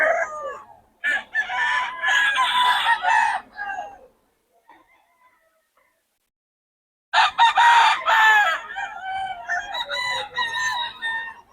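A rooster crows loudly and close, two long strained calls separated by a few seconds of near silence.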